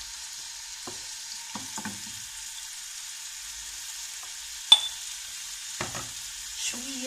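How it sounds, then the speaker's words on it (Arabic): Chicken strips fry in a little oil in a pan. A steady, moderately loud sizzle runs throughout, with a few scattered pops and crackles. "ندير فيها شويه ديال الزيت، ندير فيها الطريفات ديال الدجاج."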